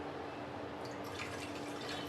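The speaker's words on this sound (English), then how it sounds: "I'm going to add in a little bit of water" Water is poured into orange chicken sauce in a home kitchen, a soft trickling splash that starts partway through over a steady low background hum, faint and with no voices.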